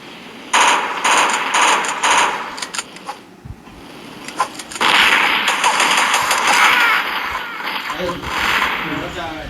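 Rapid bursts of gunfire in the mobile game Mini Militia crackle loudly in volleys, with brief pauses between rounds and a busy electronic background throughout.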